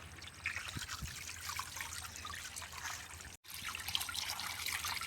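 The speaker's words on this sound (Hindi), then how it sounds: "एक एक बोटी जो है ना धो लेते हैं हम" Pieces of chicken meat washed one by one in water for a village-style chicken biryani, giving a steady trickling and splashing with occasional small drips, close by and continuous, with no talk.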